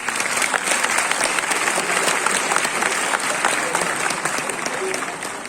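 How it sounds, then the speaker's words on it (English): Convocation audience applauding graduates at a university ceremony, a dense, sustained round of clapping from a large crowd filling the hall throughout. "Let's please give a big round of applause for the graduates."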